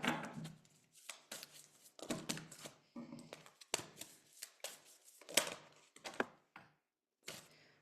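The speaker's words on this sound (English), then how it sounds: "we're going to get a couple of oracle cards" A deck of oracle cards is shuffled close up in a quiet room, a run of rapid riffling bursts with brief gaps between them.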